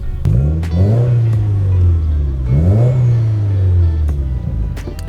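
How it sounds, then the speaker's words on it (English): Subaru WRX engine revving hard through an aftermarket dual catback exhaust, two rising rev sweeps that hold and settle, loud and close with no talking. "we're saying bye to the NVIDIA N1 dual catback exhaust"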